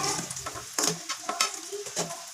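Eggplant pieces frying in a pan of hot oil after cooking on both sides, with a steady sizzle broken by scattered crackles and pops, close and moderately loud, with no talking.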